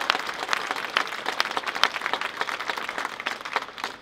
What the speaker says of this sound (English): One more round of applause, thank you so much for that.